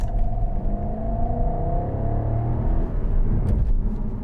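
A 2012 Jaguar XK 5.0 V8 accelerates, heard from the cabin as a steady low engine rumble with a rising tone as the car gathers speed, without talk.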